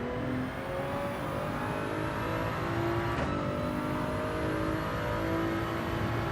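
A race car engine in Gran Turismo 7, a Supra among them, holds a steady high whine and drone throughout. A faint passing sweep comes midway.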